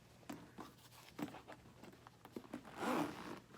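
Several short scratchy rasps come from the back zip pocket of a Dooney Alto satchel, quiet and close, ending in a slightly longer zipping pull.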